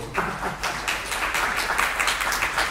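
A theatre audience claps for the stage director, a moderately dense round of applause with individual hand claps standing out, steady and somewhat subdued.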